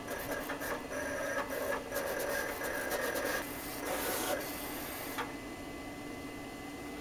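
A Roland GX24 vinyl cutter cuts out two stickers, giving a steady mechanical whir with scratchy rubbing and ticking from the blade and carriage, moderately quiet and continuous, with no talking.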